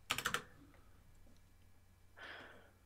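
A short burst of rapid keystrokes on a computer keyboard, about five quick clicks close up, followed by quiet room tone and a soft breath or rustle, with no talk over it.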